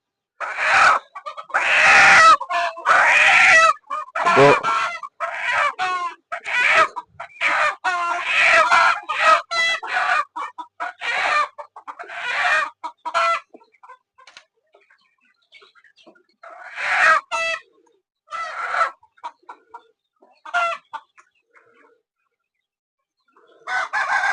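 Sonali chickens on a poultry farm squawk and cackle loudly in repeated bursts, close by, with short quiet gaps between the noisy outbursts.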